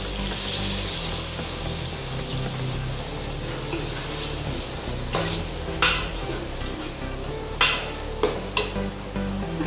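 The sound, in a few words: stirring chicken soup in a pot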